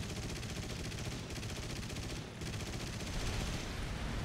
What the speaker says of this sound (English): I decide to tuck in behind them and open fire